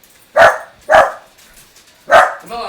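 A dog barks three times, close and fairly loud, with short gaps between the first two barks and a longer pause before the third, indoors in a quiet home.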